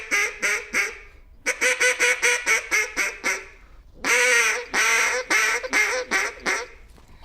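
A duck call imitates mallard quacks in rapid rhythmic series, loud and close, with a short pause before a longer run of drawn-out, raspy quacks.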